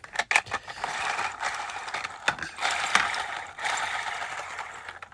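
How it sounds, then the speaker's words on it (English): A lobe root blower runs with a steady mechanical whir, rattling and clanking in uneven ratchet-like bursts, close and fairly loud, with no talk. "the blower still works, right?"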